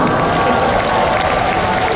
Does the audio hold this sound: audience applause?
yes